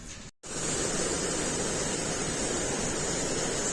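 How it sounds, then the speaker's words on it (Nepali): A river flowing nearby, a dense steady rush of water that fills the scene continuously after a brief dropout at the start, with no talk. "यता चाहिँ खोला रहेछ होइन"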